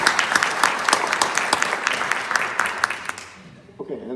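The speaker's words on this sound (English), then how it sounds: "If you could please give them a round of applause before we get started." Forum audience clapping together, a dense burst of applause lasting about three seconds before tapering off, with a voice speaking briefly as it fades.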